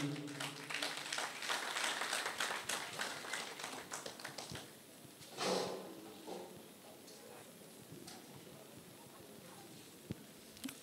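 An audience at the Miss Estudiante 2018 evening applauding the jury president, a crowd clapping steadily that swells then tapers off into quieter scattered claps, heard at a distance in a hall.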